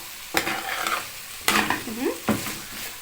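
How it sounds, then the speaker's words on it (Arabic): Garlic sizzles and fries in a pan while being stirred, with three sharp scrapes of the utensil against the pan over a steady close crackle and no voices. "حطينا الثوم وهنقعد نقلب كده اهوت علشان الثوم يدينا ريحه حلوه"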